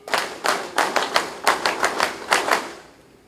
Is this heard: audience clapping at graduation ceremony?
yes